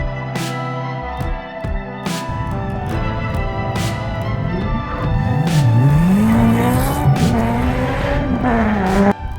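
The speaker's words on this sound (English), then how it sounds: "All right, drifting started." Drift cars at a winter USDrift drift day circuit rev hard as tires squeal in long wavering howls, the engine note rising and falling continuously at moderate distance.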